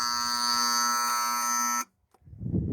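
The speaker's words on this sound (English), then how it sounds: "That was a sump alarm. telling me that it was running dry, so I'll reprime it later." A sump pump alarm on a vineyard property sounds a loud, steady electronic buzz for almost two seconds, then cuts off abruptly, followed by a short silence and rising low rumbling noise.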